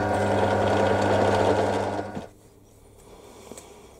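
A hand tap cutting a thread in a small metal clamp part for a shop-made lathe lead screw protector, a steady mechanical whirring grind for about two seconds that then stops, followed by quiet workshop ambience.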